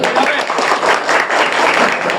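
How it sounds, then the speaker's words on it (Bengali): Group applause from an audience at a fire service awareness session, a broad steady wash of clapping close by that continues without pause. "তার জন্য হাততালি হবে।"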